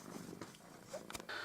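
A pampered house cat purring late at night indoors, a soft close rumble running steadily under faint household noise with a few brief clicks and a thin whistle-like tone near the end.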